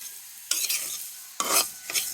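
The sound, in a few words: frying cumin seeds in a pan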